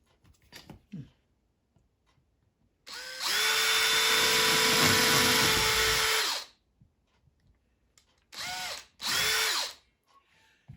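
A power drill bores into an Audi A4 Quattro glove box hinge, with one sustained whirring burst of about three seconds and then two short spin-ups, separated by quiet handling sounds.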